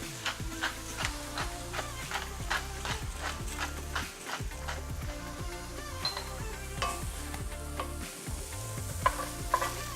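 Cauliflower rice sizzles in a hot pan while a utensil stirs it in regular, repeated scraping strokes, a fairly close, continuous frying hiss broken by rhythmic pushes for about ten seconds.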